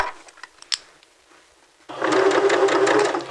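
A sewing machine runs a regular 2.5-length stitch on a T-shirt dress, starting abruptly after a few faint handling clicks and humming steadily and loudly until the end.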